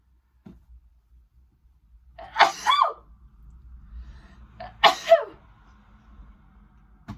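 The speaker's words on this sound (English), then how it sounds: "Finally, I got that sneeze out" Two sharp sneezes about two and a half seconds apart, close and loud, with quiet room hum and a faint breath before the first.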